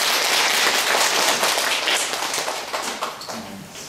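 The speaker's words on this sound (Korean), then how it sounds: "성가대에서 다시 한번 박수 쳐주시겠어요?" A church choir clapping during a Sunday service, a dense burst of many hands clapping together that starts loud and tapers off toward the end, with no talking.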